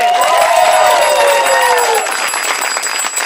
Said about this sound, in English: a huge round of applause for Big Nik, everybody.